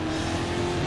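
A car drifting in Stuntman Ignition with a sustained, steady tire squeal over continuous engine roar, loud and close, with no talk.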